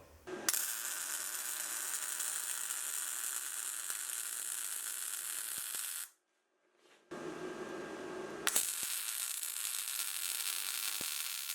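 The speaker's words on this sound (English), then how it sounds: "I'll weld the subframe together." Welding the metal subframe of a homemade roller bender gives a steady, loud crackling hiss that stops briefly for about a second, then resumes and runs continuously to the end.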